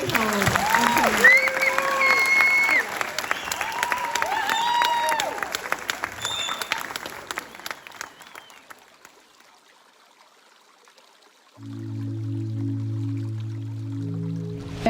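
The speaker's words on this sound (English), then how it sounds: "let us begin with a big round of applause" A theatre audience applauds at a children's play, a dense clapping wash that fades away over several seconds and gives way to a steady low hum.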